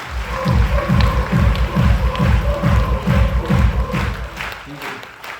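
A crowd claps in a steady, rhythmic burst of applause that fills the space loudly and evenly before fading at the end.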